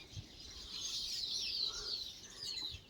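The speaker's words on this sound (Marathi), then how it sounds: "पक्ष्यांच्या आवाजासाठी मी व्हिडिओ घेत आहे" Thin, high bird calls drift in from a distance, faint warbling and chirping over a quiet outdoor hiss.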